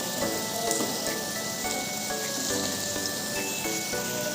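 Potato pieces and pointed gourd frying in oil in a pan give a steady, dense sizzle and crackle close by, constant throughout with no talking.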